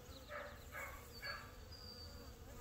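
A steady, faint buzzing of a swarm of honeybees fills the air, with a few louder passes of insects flying close.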